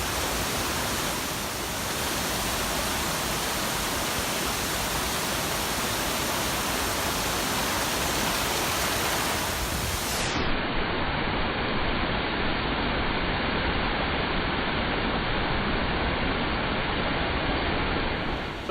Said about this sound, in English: You can hear it now. Mighty rushing river now.